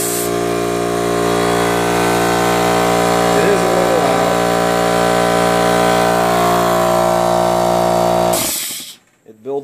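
Ridgid ZROF50150TS 5-gallon oil-free portable tri-stack air compressor running loud and close with a steady droning motor hum that stops abruptly near the end, followed by a few faint clicks.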